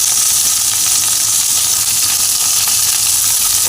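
Pointed gourd (potol) pieces fry in hot oil with salt and turmeric, giving a steady, loud, even sizzle with a constant hiss that runs unbroken throughout, with no voices.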